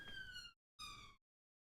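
Siren sound effect played to close a show, two short loud electronic wails with a brief gap between them, alone with no talk.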